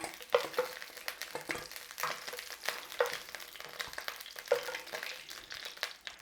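Sausages sizzle in a pan while a utensil scrapes and stirs them out into a bowl, with irregular clinks and scrapes over a steady frying hiss, close and moderately loud.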